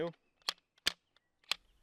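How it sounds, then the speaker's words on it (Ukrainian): Three sharp, quiet pops spaced unevenly, each a short muffled crack from a pistol fitted with a brand-new suppressor, with faint breathy sounds between. "перший постріл має бути досить тихим, тому що заглушка зовсім нова"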